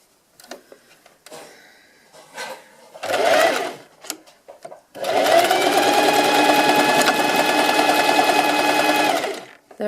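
Sewing machine running short stitches along knitted sweater fabric, a few brief starts followed by a long, steady, close whirring run, with faint breathing early on.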